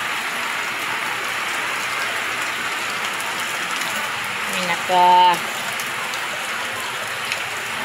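Heavy rain falls steadily outdoors as a dense, continuous hiss, with a brief tonal sound near the middle and a person speaking lightly over it.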